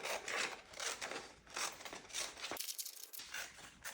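Scissors snip and rustle close up, cutting out an embroidered rose from fabric, with steady crunching cuts and brief pauses.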